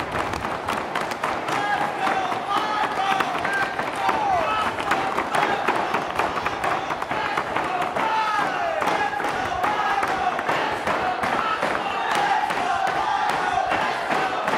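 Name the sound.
wrestling crowd cheering at RWA Legacy 7 main event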